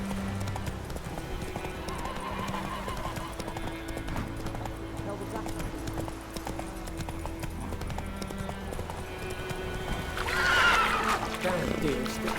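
Roach the horse galloping in The Witcher 3, rhythmic hoofbeats drumming steadily throughout, ending in a loud neigh near the end, with game music and ambience underneath.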